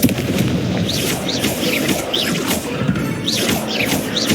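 Repeated blasting explosions from the Confringo fire spell in the video game Hogwarts Legacy, loud heavy booms and crashes layered under continuous combat noise with whooshing spell effects.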